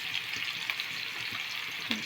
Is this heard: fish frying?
yes